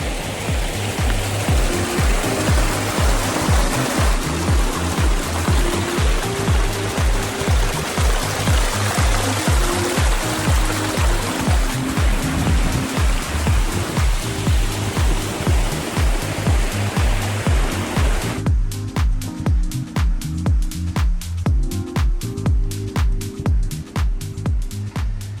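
A waterfall pours steadily into a large garden pond at a resort, a loud continuous rushing splash that holds its dense wash throughout, with a rhythmic pulsing undertone that thins toward the end.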